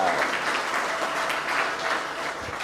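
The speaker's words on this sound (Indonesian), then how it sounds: "Tepuk tangan buat Tuhan kita." A church congregation at a Javanese Christian worship service breaks into loud, steady applause, a dense wash of clapping that holds for a few seconds.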